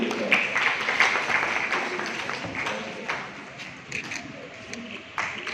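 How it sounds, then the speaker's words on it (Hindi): Audience applause for an honored guest at an award ceremony in Aurangabad, a steady burst of clapping from a crowd that keeps up for several seconds under a busy, echoing hall. "जोरदार तालियों के साथ"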